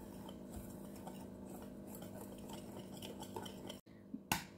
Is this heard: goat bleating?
no